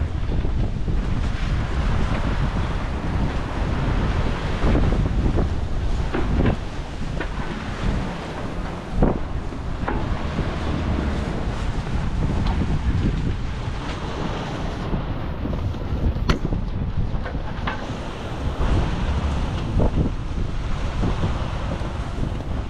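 Strong wind buffets the microphone over a sailboat at sea, beating against wind, waves and current, with waves surging and crashing in a constant loud roar and no voices.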